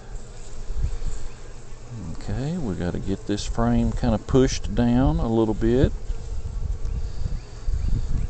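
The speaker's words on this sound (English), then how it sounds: "A whole lot of bees." A thick swarm of honey bees drones low around a top bar hive being worked, the buzzing steady throughout while someone speaks over it in the middle.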